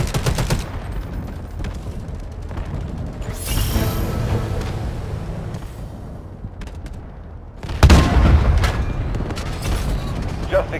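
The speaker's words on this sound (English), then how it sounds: "Artillery cover coming." Artillery fire in Delta Force: Hawk Ops sends up booming explosions under steady gunfire and battle noise, with one heavy blast standing out toward the end.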